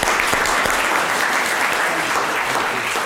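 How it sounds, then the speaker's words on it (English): An audience applauding after a discussion session, steady dense clapping from a crowd that fills the whole moment at an even level, with no voices over it. "Let's give them a round of applause"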